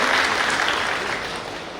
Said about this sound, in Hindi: मैं निवेदन करता हूँ आप सभी से जोरदार तालियों के साथ आप उनका एक बार स्वागत और अभिनंदन अवश्य करें